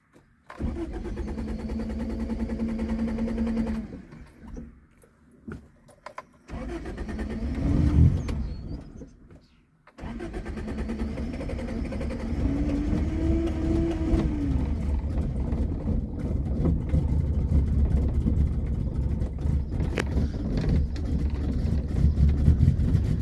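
A 1978 Honda Civic that has sat unused for a while cranks and catches. It runs roughly, dies and is restarted with a rising rev, then settles into a steady, close idle.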